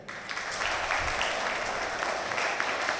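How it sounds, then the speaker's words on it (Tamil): An audience breaks into continuous, full applause, evenly sustained clapping from a sizable crowd heard close and without talk. "எல்லாரும் அவங்களுக்கு ஒரு கை தட்டுங்க"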